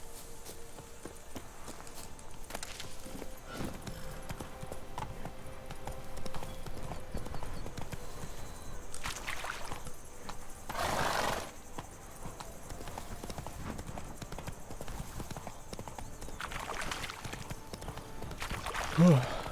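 Roach, a horse ridden in The Witcher 3: Wild Hunt while traveling through Toussaint, clip-clops with a steady hoof rhythm close by, continuing under intermittent game sounds.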